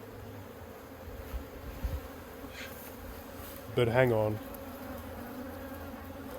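Honey bees buzz steadily around a blocked queen cage in a hive, a low continuous drone with a louder close buzz flaring briefly; a voice speaks quietly partway through.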